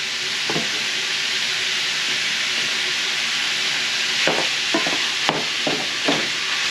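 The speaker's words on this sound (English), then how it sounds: "Does a pretty good job chopping up the meat, the hamburger." Steady sizzling of hamburger meat frying in a pan, with a few sharp scraping chops from a utensil breaking it up toward the end.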